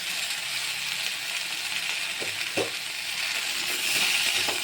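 Ginger, salt and turmeric frying in a pan for a fish curry with taro and potato, a steady soft sizzle with a few scraping stirs and a brief clink partway through.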